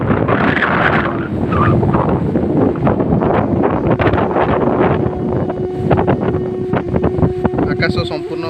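Strong cyclone wind on a coastal stretch batters the microphone in a loud, continuous roar with gusty rumbling throughout, and a voice is faintly present beneath it.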